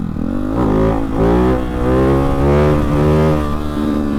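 A Ducati with a Hyper 698 S1 titanium exhaust revs hard up close, the engine note climbing and falling in a few loud, throaty surges with no voices over it.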